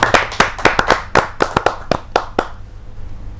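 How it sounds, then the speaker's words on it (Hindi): Audience at a Hindi kavi sammelan poetry gathering clapping for a poet: a burst of sharp, close handclaps from a modest crowd thins out and fades within a few seconds. "जोरदार तालियों के साथ"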